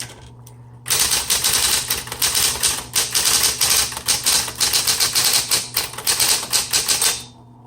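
Rapid, loud typing on a 1970s Smith Corona Coronet Electric 12 electric typewriter, a dense stream of sharp key strikes in bursts, up close and without speech.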